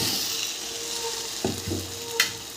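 Egg and potato dropped into spice paste frying in hot oil: a constant close sizzle with a couple of sharp clatters and splashes as the pieces go in and get stirred.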